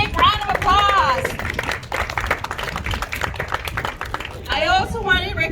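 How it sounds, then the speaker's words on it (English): Audience applause for caterers at a community health fair and chamber of commerce mixer, a dense patter of clapping under loud overlapping talk and crowd chatter, with voices rising clearly at the start and end. "If you guys give them a big round of applause."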